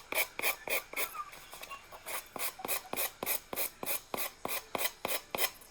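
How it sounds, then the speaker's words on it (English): Steady, rhythmic rasping of sandpaper rubbing back and forth on the edges of a wooden egg, about three strokes per second, close and fairly quiet. "we're going to sand the edges off of this"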